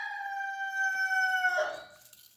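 A single rooster crow from a toy bird, clean and close, with a long sustained call that breaks off at the end.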